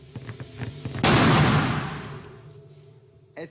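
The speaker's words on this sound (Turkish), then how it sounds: "Otomobil lastiği patladı." A car tyre bursts in a science demonstration, a sudden loud broadband bang that decays over about a second and a half, preceded by faint tapping and background hum.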